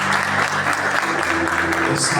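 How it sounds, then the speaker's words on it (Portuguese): A church congregation applauds during a communion service, a short burst of close, continuous clapping with a faint hum beneath and some voices mixed in. "Aplauda o nome do Senhor Jesus."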